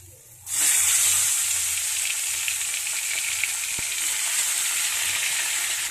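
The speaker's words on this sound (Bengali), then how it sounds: "এবারে মাছগুলোকে আমি তেলে ভেজে নেব" Small tangra fish drop into hot mustard oil and burst into loud, close sizzling that holds steady and crackles throughout, with no voices.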